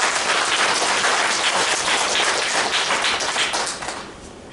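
An audience at a Korean religious lecture claps in sustained, dense applause that fills the whole stretch, loud and steady before easing off slightly near the end, with no talking over it.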